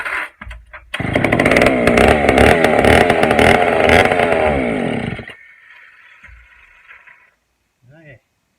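A Pioneer chainsaw, started after long storage, fires up and runs loud and rough for about four seconds with revving bursts, then drops to a quieter idle and cuts out, followed by a brief voice.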